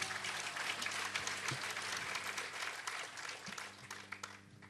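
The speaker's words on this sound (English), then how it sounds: "Well, yes, a big round of applause," An audience at a stage event breaks into sustained applause, dense steady clapping that fills the space from start to finish with no voices over it.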